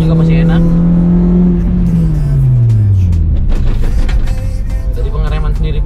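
A car engine accelerates while driving, a loud close drone whose pitch climbs and then drops with each gear change, and someone talks over it.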